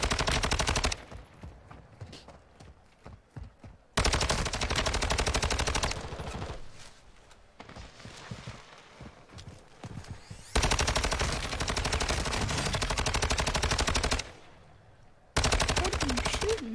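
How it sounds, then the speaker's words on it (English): Bursts of rapid automatic gunfire from a video game shooter, several loud sustained volleys separated by quieter stretches with scattered single shots and background game noise. "What are you shooting at, man?"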